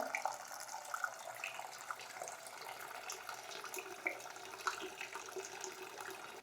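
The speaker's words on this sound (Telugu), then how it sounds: "వేడి నీళ్ళు పోయాలి కదా" Hot water pours into a cooking pot of rice, a faint, steady watery hiss with a few small clicks and splashes, no voices.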